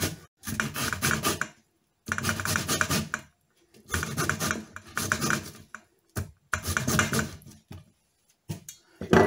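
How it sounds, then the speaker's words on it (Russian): Bell pepper rubbed across a fine grater, skin left behind, in rhythmic bursts of rasping strokes about two seconds each, separated by short pauses, close and fairly loud. "И протираем через мелкую терку болгарский перец."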